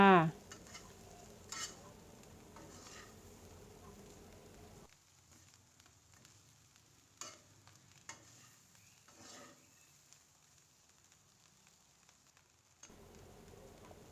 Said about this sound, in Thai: แล้วก็มาคั่วอีกทีนึงเนาะค่ะคั่วให้เข้ากันเนาะค่ะ